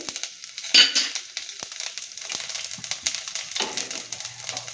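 Whole garlic cloves dropped into a hot pan with cumin give a brief burst of sizzling, followed by a steady crackling fry with light clinks of a utensil against the pan.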